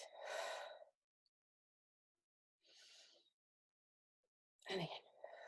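Slow, deliberate breaths in a quiet meditation, three soft airy inhales and exhales separated by long silences, close and gentle.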